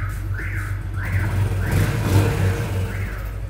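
A 2006 Yamaha Exciter motorcycle engine revs up and down in repeated surges over a steady low rumble, fairly close and loud throughout.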